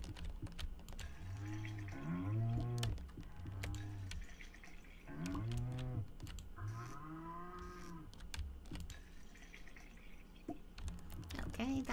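Cattle in the farming game Stardew Valley lowing in a few drawn-out, mid-volume moos over a steady background of game music and ambience.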